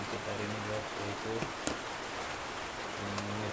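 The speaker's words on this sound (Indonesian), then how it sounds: "datang hujan sangat deras sekali" Heavy morning rain falling, a steady dense hiss throughout, with someone talking over it in parts.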